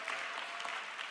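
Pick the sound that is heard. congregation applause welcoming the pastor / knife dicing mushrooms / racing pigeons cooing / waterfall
congregation applause welcoming the pastor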